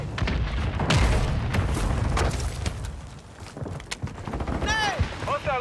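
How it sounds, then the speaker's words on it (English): Hostile mortar strike explosions in a military shooter game, low booming thuds under a continuous mix of gunfire and battle noise, with voices talking over them. "Hostile mortar strike in the area."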